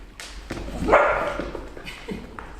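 Livestock guardian dog puppies yip and bark in a few short bursts at close range, with small scuffling thumps between the calls.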